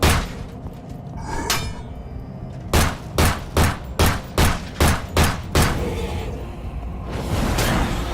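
Gunshots fired in the video game The Evil Within 2: a lone shot, then a steady run of seven sharp, loud reports about a third of a second apart, over low ambient game rumble.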